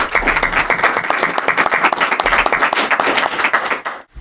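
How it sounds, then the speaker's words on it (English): An evening audience at a tech council patent event gives a big round of applause for its host company, a dense, loud spread of many hands clapping steadily before it quickly dies away. "Let's give them a big round of applause"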